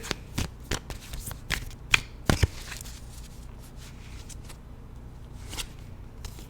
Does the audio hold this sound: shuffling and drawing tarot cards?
yes